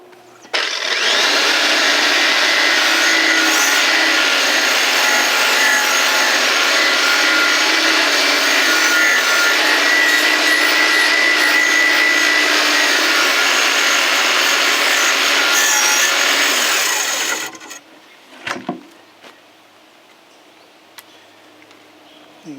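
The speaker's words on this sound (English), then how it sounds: "we're going to use our old vintage Sears grinder here to take off the heavy rust" An old vintage Sears grinder grinds heavy rust off a Homelite XL chainsaw, giving a loud, steady, close abrasive whine for about seventeen seconds before it cuts off and winds down, with a few light clanks after.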